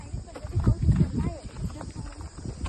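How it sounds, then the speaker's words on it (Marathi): A horse walks on a path in the Matheran hills, its hooves clip-clopping in an uneven rhythm close by, mixed with voices talking over it. "आमचा सुंदर घोडा इकडे आहे"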